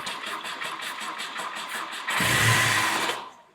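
A 1973 Volvo 144 with its intake removed cranks rhythmically on the starter, then fires on easy start spray and roars briefly before dying away, loud and close.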